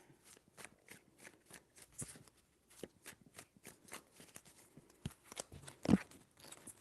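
Tarot cards being shuffled during a reading, a quiet run of soft riffling flicks and brushes repeating in short bursts, with one louder slap of the deck near the end.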